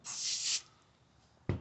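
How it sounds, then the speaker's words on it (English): A single short hiss of Spray Canada degreaser from an aerosol can, foamy, about half a second, followed by a quiet pause and a soft thump. "Spray Canada degreaser."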